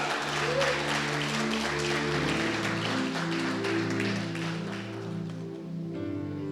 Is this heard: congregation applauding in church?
yes